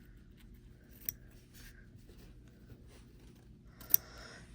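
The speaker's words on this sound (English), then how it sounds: "it works really well with these scissors here" Scissors cut through fabric around a snap placement circle for a sewing bag project, a few quiet snips and slides with two sharper clicks, close and soft, with no talk.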